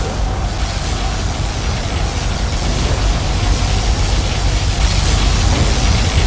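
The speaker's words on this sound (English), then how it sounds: "Particle cannon activated." A particle cannon fires in Command & Conquer Generals Zero Hour as a dense, roaring broadband blast that holds steady and loud for several seconds, with a deep rumbling low end.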